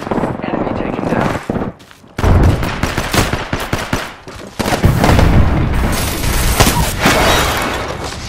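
Heavy gunfire from enemy players in the battle royale game Apex Legends, dense bursts of rapid shots and impacts filling most of the stretch, loud and close, with a brief lull early on and in-game voice lines mixed in.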